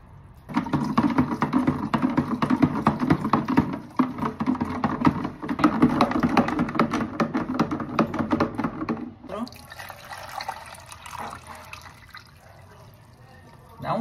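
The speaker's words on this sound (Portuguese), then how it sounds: "500 ml de água fria, tá? Que eu já separei tudo aqui, a água da torneira." Cold tap water pours into a container for a homemade cleaning gel, a steady splashing fill running loud for about nine seconds before dropping to a quieter trickle, with a voice talking over it.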